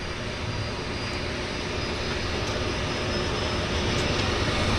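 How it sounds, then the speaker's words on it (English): A steady, loud aircraft engine drone at a downtown harbour airport in Vancouver, broadband and continuous, building slightly over several seconds with no talking. "I wonder if he's going to start his port engine here anytime soon."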